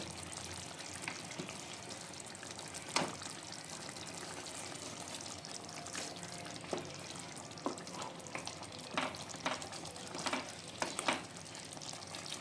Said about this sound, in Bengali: আর এখন ঘি আর গরম মশলাটা একবার মিলিয়ে নেব সমস্ত গ্রেভির সাথে।